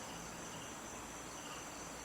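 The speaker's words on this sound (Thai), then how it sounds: "เสียงจิ้งหรีดจักจันเลไลร้องก็ดังอยู่" Crickets and cicadas chirp at night at the foot of a mountain, a faint, dense, unbroken insect trill filling the background with no voices.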